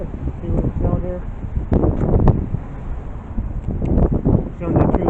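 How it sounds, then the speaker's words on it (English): Gusty wind buffets the microphone in uneven rumbling bursts during street outreach in Lawrence, Kansas, mixed with nearby talking. "It's in the 50s, but it's windy."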